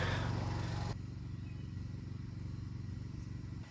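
A small engine with a carburetor in need of cleaning runs steadily nearby, a rough low-pitched idle with a throaty pulsing rumble; a louder burst opens the sound before it settles to a continuous drone.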